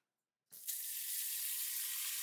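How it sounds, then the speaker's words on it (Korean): Tap water runs steadily into a kitchen sink while dishes are washed after a meal, a bright continuous hiss that starts abruptly and holds alone at moderate loudness. "속 시원한 설거지 타임."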